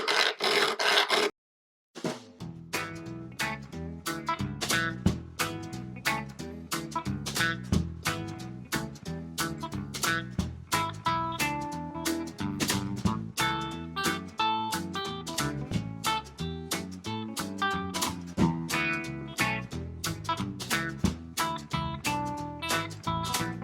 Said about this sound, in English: Round file. And elongate these holes.